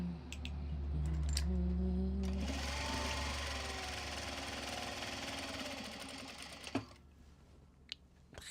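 A sewing machine stitching, a close steady mechanical whir with rhythmic needle clatter that runs for several seconds, then stops and leaves a few isolated clicks.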